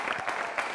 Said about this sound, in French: Je veux saluer Mike et Ebrifador que je vous demande d'applaudir très fort.